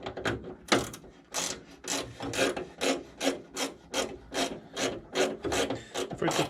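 Small ratchet spanner working a 5/16 nut on an MGA 1600 door during restoration, a steady run of about a dozen close, quiet rasping clicks in an even back-and-forth rhythm.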